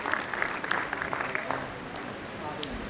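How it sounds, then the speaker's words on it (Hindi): Audience applause welcoming guests at a school Teacher's Day function, a dense, fairly steady clatter of many hands that fades slightly toward the end, with some voices mixed in. "कृपया तालियों से स्वागत कीजिए।"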